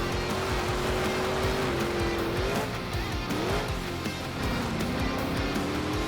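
A monster truck engine during a freestyle run roars and revs, its pitch rising and falling as it climbs into wheelies and reverse moves, with tire squeals and crowd ambience, loud and close.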